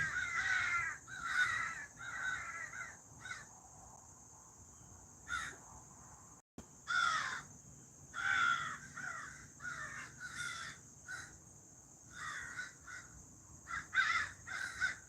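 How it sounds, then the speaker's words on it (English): Crows caw repeatedly and harshly in bursts, overlapping as several birds squabble outdoors, with a continuous high insect drone underneath and no talking. "We got birds fighting."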